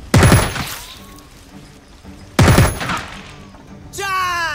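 Gunfire from Jagged Alliance 3: two loud, sharp bursts of shots about two seconds apart, each fading into a rumbling tail, followed by a brief ringing, whining effect at the end.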